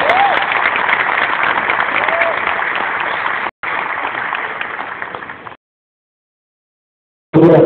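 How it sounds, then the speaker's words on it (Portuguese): An audience at a Universidade de São Paulo event gives a round of applause, dense steady clapping that runs for several seconds with a short break, then stops abruptly before a brief final burst. "Vamos receber uma salva de palmas."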